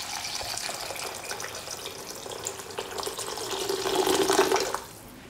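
About 400 ml of water pours steadily into a cooking pot for taro radish soup, a continuous splashing stream that grows louder near the end before stopping abruptly, with no talk.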